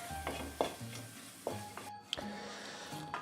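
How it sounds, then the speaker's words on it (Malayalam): Spice powders frying for a pork and Chinese potato curry are stirred in a pan: a soft sizzle with repeated scraping strokes and a few sharp knocks of the spoon against the pan, close and without speech. "ഇനി പൊടികളുടെ പച്ചമണം മാറുന്നവരെ ഒന്ന് ഇളക്കി കൊടുക്കുക കേട്ടോ"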